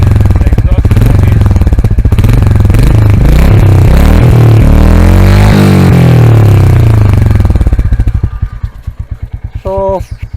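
A Royal Enfield Goan Classic 350 thumps loudly up close, its exhaust rising and falling through revs before settling into a slow, pulsing single-cylinder idle that fades out at the end.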